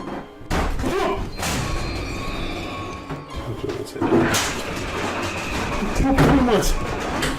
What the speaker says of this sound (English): Two knocks, both coming from this door.